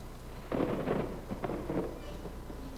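A thunderstorm sound effect played in a staged family musical, with a rumbling roll of thunder that swells suddenly, fades and rolls again over a low background hum.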